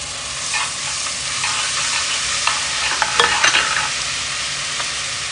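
Garlic frying in oil in a pan, a close, continuous hiss of sizzling with a few sharper crackles and spatula scrapes toward the end, no voices.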